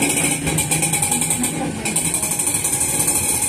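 A motorcycle engine runs close by with a steady, busy mid-range drone that fades slightly midway and then returns, a rough continuous rumble with no speech over it.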